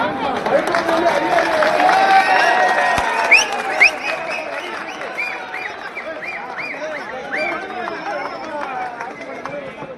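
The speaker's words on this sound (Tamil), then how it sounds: "அவங்க எல்லாம் கைத்தட்டி விசில் அடிச்சு கொண்டாடுறாங்க" A crowd of local people claps and whistles in celebration, a dense, loud wash of applause with sharp whistle bursts rising over continuous chatter and cheering voices.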